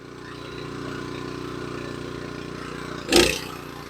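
A warmed-up Honda snowblower engine runs steadily and close by at a medium pitch, with a brief louder burst near the end.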